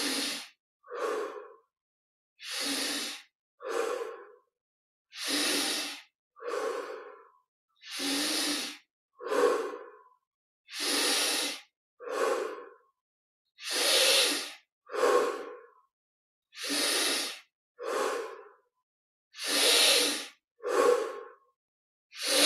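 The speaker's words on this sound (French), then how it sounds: "Encore 10 respirations, 10 respirations profondes, un peu plus d'air encore." Deep, slow breaths during a guided Kriya yoga meditation, about eight paired inhales and exhales in a steady rhythm, close and clear with no talking between them.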